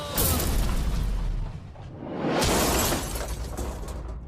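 A loud, rumbling blast from an industrial shredder destroying a Lamborghini, with a roaring burst of debris-like noise, swelling midway and then trailing off into a long, noisy decay.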